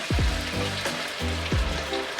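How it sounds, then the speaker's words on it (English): Hot oil crackling and sizzling steadily as beef deep-fries, with a few low rumbling thumps repeating underneath, close and moderately loud. "When it's hot enough, add the beef and fry."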